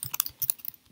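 Typing on a computer keyboard while loading an R package: bursts of close, crisp key clicks in an uneven rhythm, with short pauses between strokes.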